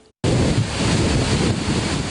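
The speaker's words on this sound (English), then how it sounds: "The drought has diminished the flow of water over the falls at Falls Park" Waterfall at Falls Park with its flow reduced by drought, a dense, loud roar of rushing water that starts abruptly after a moment of near silence and continues steadily, close to the microphone.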